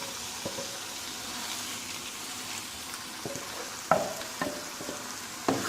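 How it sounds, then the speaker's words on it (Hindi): Yogurt goes into a sizzling masala for vegetable korma: a continuous close frying hiss with a few light clinks of a stirring spoon against the pan, and no voices. "मैं इसमें दही मसाले में शामिल करूँगी।"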